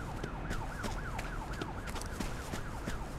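A police siren wails in an online crime video game, its rising and falling tone repeating steadily and loudly throughout without a break.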